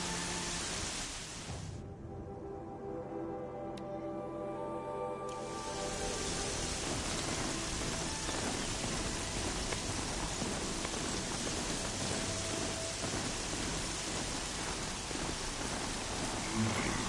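Steady rain falls in the game Horizon, a soft hiss that briefly thins, then swells into a fuller, denser downpour with faint low rumbles beneath.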